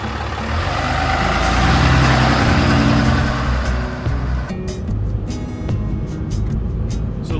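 Diesel truck engine carrying a lightweight camper, running at a steady close rumble that swells slightly, then drops to a quieter idle with faint clicks and rattles.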